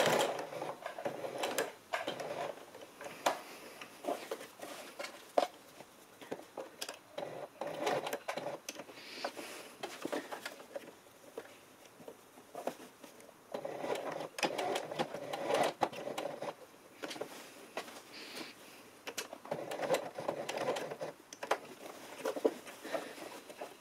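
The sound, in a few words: sewing machine stitching a vertical seam on trousers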